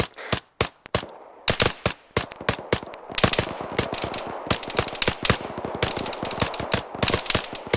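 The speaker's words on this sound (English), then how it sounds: "we're taking shots from the west" Rapid gunfire from an ArmA 3 firefight, machine-gun bursts and single shots cracking in dense, irregular volleys with a few brief pauses, loud and continuous throughout with no talking.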